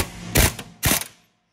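A cordless pneumatic ratchet fires two short, loud mechanical bursts, each a rapid rattling whir, while swapping an upper ball joint on a 1961-62 Thunderbird.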